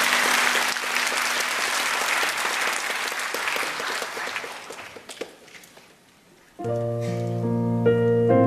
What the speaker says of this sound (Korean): 우리 청년들 큰 박수로 축복하며 격려해 주시기 바랍니다